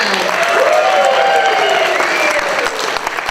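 An audience applauds a band after an original song, steady loud clapping with some crowd noise and a faint voice or tone gliding through it, easing slightly near the end.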